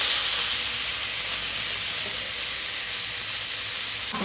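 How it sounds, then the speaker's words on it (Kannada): Soaked lentils with asafoetida frying in a pan, a steady close sizzle with bright hiss running unbroken throughout, no voices. "ಇದನ್ನು ಈ ಥರ ಫ್ರೈ ಮಾಡ್ಕೊತಾ ಇದೆ"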